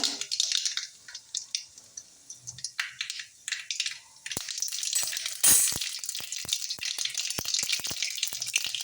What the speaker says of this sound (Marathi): तेल तापलेलं आहे आता आपण अर्धा चमचा मोहरी घालूया